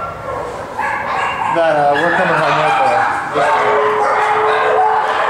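Dogs at an animal rescue kennel yip, whimper and bark in quick bursts close by, with several overlapping voices, while a person talks over the noise.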